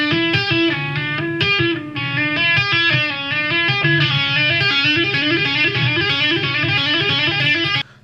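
Electric guitar tapping passage, a fast repeating pattern of bright picked and tapped notes adding a fourth note over a three-note figure, close and loud with a slightly distorted tone, ending abruptly.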